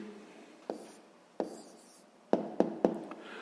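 Pen or pencil writing an answer by hand on paper during a sixth-grade maths exercise, heard as soft scratching with several sharp taps as the pen strikes the page, close and quiet with no talking.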